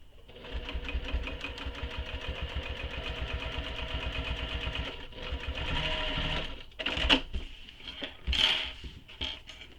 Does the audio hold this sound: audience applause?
no